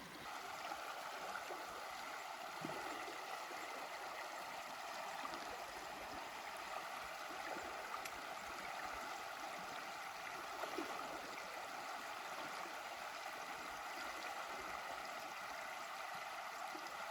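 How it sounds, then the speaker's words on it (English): Shallow river water flowing steadily at a river crossing at about 1000 meters elevation, a soft continuous rush and gurgle heard from a little distance, with no voices. "that, guys, is the first river crossing of the trip"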